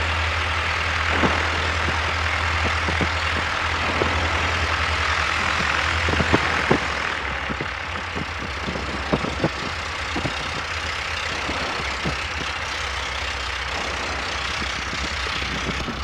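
An experimental biplane's engine idles steadily with a low, even rumble throughout, broken by a few scattered clicks and knocks.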